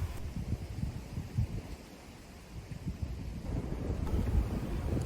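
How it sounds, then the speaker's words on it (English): Steady wind buffeting the microphone, a low rumbling roar that swells louder toward the end, with no voices. "Windy."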